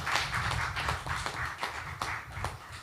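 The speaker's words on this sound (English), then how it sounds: "I want us to give Minister Nisbet and Permanent Secretary Maynard a round of applause" Subdued applause from an audience at a Ministry of Entertainment media event, honouring the minister and permanent secretary: a steady wash of many hands with scattered sharper claps, fairly quiet and continuous throughout.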